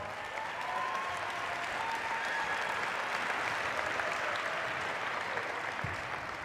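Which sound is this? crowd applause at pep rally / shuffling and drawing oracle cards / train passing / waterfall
crowd applause at pep rally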